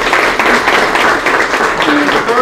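Round of applause from members at a Rotary Club meeting, a steady wash of many hands clapping at moderate loudness throughout, with a faint voice and a brief tone near the end.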